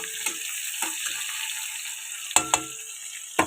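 Onions, green chillies and panch phoron spices being stirred in a frying pan, with a steady sizzle and several sharp clacks of a spoon against the pan, close by and alone.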